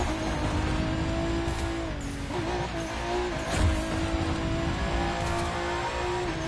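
Race car in The Crew 2, a steady droning engine tone with shifting pitch as it brakes and recovers, some scraping tire noise partway through, continuous and close.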